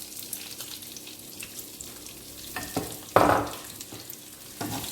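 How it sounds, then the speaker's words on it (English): Whole cumin, bay leaves, cardamom and cinnamon hit hot oil, making a close, continuous crackling sizzle with scattered pops and one louder burst of spitting partway through. "Now I am going to add the whole jeera, bay leaves, cardamoms and cinnamons, and then I'll fry the chopped onions."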